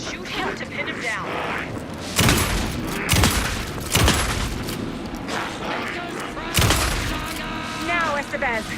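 Gunfire in the video game Alan Wake 2: several loud, sharp shots spaced a second or so apart, heard under tense spoken dialogue and game ambience.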